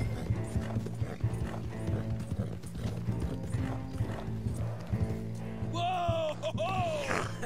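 Horse hooves clip-clop at a steady riding rhythm in Red Dead Redemption 2, running continuously under game music and ambience, with a horse whinny near the end.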